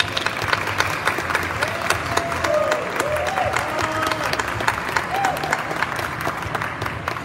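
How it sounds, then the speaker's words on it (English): An audience gives a round of applause for student and staff models, with steady, dense clapping and sharp individual claps standing out throughout, close and moderately loud. "if we could give one more round of applause for our student models and our staff models"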